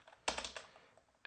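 A burst of quick keystrokes on a computer keyboard, a handful of close, faint clicks in a quiet room, ending with one more tap.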